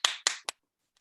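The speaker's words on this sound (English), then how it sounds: "give yourselves a huge round of applause" Three sharp, separate hand claps ring out close and crisp for a comedy class show cast, each quickly decaying, followed by near silence.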